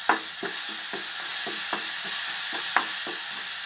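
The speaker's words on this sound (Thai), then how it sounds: "น้ำตาลทรายหน่อย ผัดให้พริกแกงหอมก่อน" Thai curry paste with a little sugar stir-fried in a pan for spicy catfish: a constant close sizzle with rhythmic spatula scrapes about every half second, no talking.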